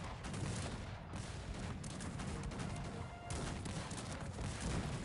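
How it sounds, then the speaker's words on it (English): Cannons fire during a Cossacks 3 tournament battle, a dense continuous rumble of overlapping booms and crackling shots that rolls on without pause at moderate loudness. "The cannons are still continuing to shoot."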